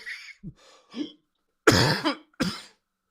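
A burst of close, loud coughing and throat clearing in several short bursts, the strongest two near the end, separated by silence.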